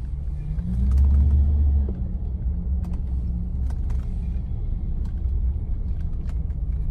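A Rolls-Royce engine idles at a steady low rumble, briefly swelling louder at the start before settling into an even, smooth hum with faint clicks around it.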